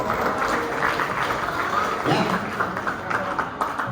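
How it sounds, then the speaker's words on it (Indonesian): Applause from an audience at a vocational high school event, steady dense clapping throughout with a brief voice over it. "Tepuk tangan dong."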